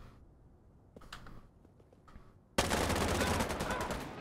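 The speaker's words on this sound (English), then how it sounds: "Where are you firing at?" Sudden loud machine-gun fire in Insurgency: Sandstorm bursts in partway through and keeps going as a dense, sustained volley after a quieter stretch with faint movement sounds.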